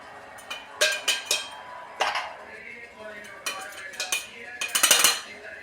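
A spoon scooping rice powder into a metal puttu maker for Kerala-style puttu, with a series of sharp metallic clinks and scrapes in irregular bursts, close and fairly loud.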